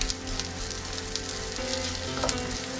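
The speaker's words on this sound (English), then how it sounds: "that'll start sizzling away in a minute." Fish pieces sizzle steadily in a frying pan, a close, continuous crackling hiss of hot oil with small pops, no voices.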